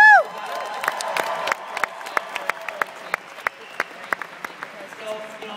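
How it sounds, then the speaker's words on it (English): A crowd claps and cheers with scattered whoops, the applause continuing steadily at moderate volume after an opening shout. "Round of applause."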